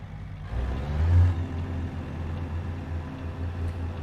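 A heavy truck engine in American Truck Simulator rumbles low and steady, with a swell in revs about a second in as it downshifts, then settles into an even drone.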